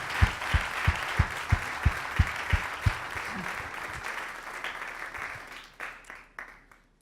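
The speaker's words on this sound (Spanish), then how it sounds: "Denle un aplauso al Señor." A church congregation applauds, first in a run of about ten strong, evenly spaced rhythmic claps, then loosening into scattered clapping that thins and fades out toward the end.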